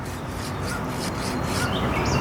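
A nail file rasps steadily across a fingernail up close, giving a continuous scratchy rubbing with faint rhythmic strokes and no talking.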